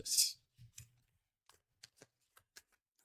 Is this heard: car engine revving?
no